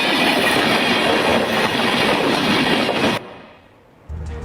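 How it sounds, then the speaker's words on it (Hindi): A train passes over railway track close by, a loud continuous rumble with wheel clatter and squeal that ends abruptly, followed by a brief quieter stretch and then a low rumble returning. "ऊपर से देखिए ट्रेन गुजर रही है"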